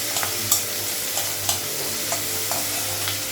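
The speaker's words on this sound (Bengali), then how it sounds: "পেঁয়াজটা একটু ভেজে নেবো" Onion fries in a hot pan with a steady sizzle, broken by sharp scraping stirs at regular intervals, loud and close with no talking.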